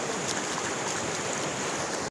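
River water flowing beside farmland in Nagaland, a dense, steady rushing roar heard close and alone for about two seconds.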